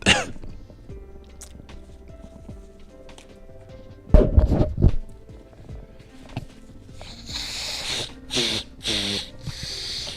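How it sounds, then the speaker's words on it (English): A person blows their nose with sharp, forceful bursts. A loud honk comes around the middle, followed by several hissing, snorting blows near the end, with quieter shuffling noises between them. "I need to blow my nose now."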